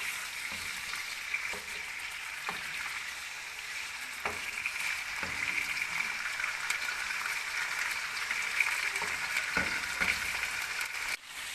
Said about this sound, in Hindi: इसे अच्छे से फ्राई करेंगे ऑयल में।